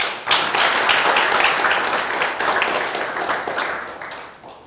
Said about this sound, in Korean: 우리 이분들이 정말 행복하게 사실이라는 믿음을 갖고 박수 한번 주세요.